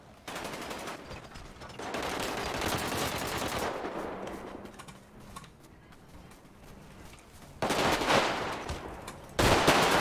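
Gunfire during a GTA purge-night firefight, long stretches of rapid automatic shooting with a quieter pause in the middle before sharp, loud bursts return near the end.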